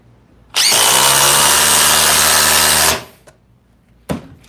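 A brand-new 2025 DeWalt DCF860 impact driver on speed 3, running on a fully charged 15 Ah FlexVolt battery, drives a 6 inch by 5/16 GRK screw in one loud, sustained hammering burst of about two and a half seconds, then stops, with a few small knocks afterward.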